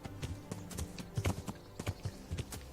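Horse hooves clop in an uneven, steady walking rhythm in the game Kingdom Come: Deliverance, fairly quiet and close, with no voices over them.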